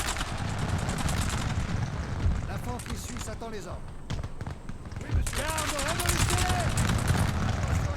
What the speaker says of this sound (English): Man, just brutal volley fires here. With the cannon fire mixed in there too, it's overwhelming.